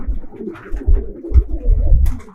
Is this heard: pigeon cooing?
yes